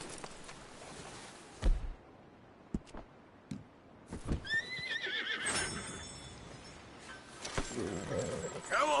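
A horse in the Red Dead Redemption 2 video game whinnies in a rising, shrill call partway through, with hoof clip-clops and scattered thuds around it and someone talking at times.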